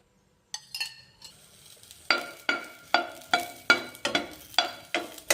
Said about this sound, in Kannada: ಈಗ ಎಣ್ಣೆ ಹಾಕಿ ಹುರ್ಕೋರಿ.